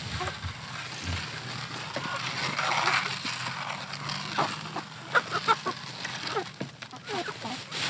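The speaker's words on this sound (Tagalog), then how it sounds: "So ganito yung behavior ng mga manok na ang patuka ay nakarasyon." Farm chickens on rationed feed cluck and stir nearby in short, scattered bursts over outdoor background noise, while a person talks.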